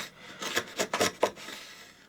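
A chisel paring wood for a tapered sliding dovetail joint, giving several short close scraping strokes in quick succession, alone and fairly quiet.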